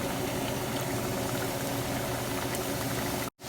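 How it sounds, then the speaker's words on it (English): Rava samosa deep-fries in hot oil, a dense, even bubbling hiss that runs unbroken and fairly loud before a brief cut near the end. "We're going to add our samosa and fry."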